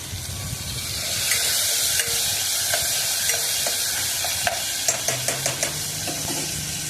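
A steady hiss of mustard seeds, cumin, asafoetida and tomato frying in hot oil, with a spoon scraping and tapping the pan in a quickening series of clicks toward the close. No voices.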